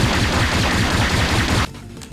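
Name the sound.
Gatling barrage attack gunfire in the video game Anime Saga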